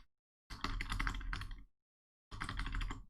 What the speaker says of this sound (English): All right, are you gonna pick up the typing sound?